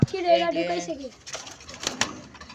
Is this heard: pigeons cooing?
yes